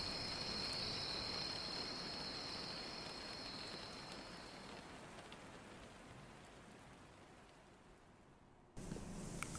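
Steady rain falls outside, a close, even patter that fades slightly over several seconds before a louder surge at the end.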